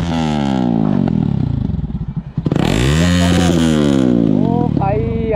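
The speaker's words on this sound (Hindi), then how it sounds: "अभी एग्जॉस्ट का नोट चेक कर लो" A motorcycle with its dB killer removed idles loudly and close, then revs hard around the midpoint with a rising, harmonic-rich roar before falling back to a lumpy, rumbling idle; voices talk over it.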